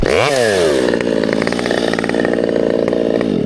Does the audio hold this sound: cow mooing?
no